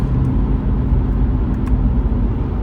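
A 2026 BMW 540i Legacy Edition with an 8-speed ZF automatic gearbox, held in 4th gear in manual mode, accelerates hard with a steady, loud, low engine and road rumble from inside the cabin.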